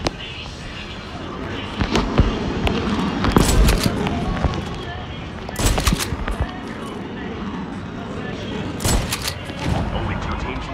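Shotgun blasts in a Call of Duty match, several sharp booming shots spread irregularly over dense game noise, with a voice talking underneath at times.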